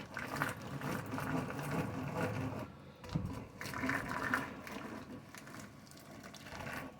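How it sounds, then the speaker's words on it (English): An old hand mixer that belonged to a grandmother whirs steadily while frothing eggs in a bowl for an apricot nectar cake, a continuous close mechanical buzz with a brief dip partway through and slight shifts in pitch. "I'm going to just use my Granny's hand mixer to froth the eggs"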